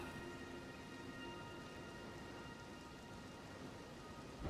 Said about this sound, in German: es regnet und dadurch hat es ein bisschen Nebel